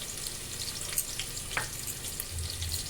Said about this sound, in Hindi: अब ये राई तड़क गई, अब मैं लहसुन डालती हूँ।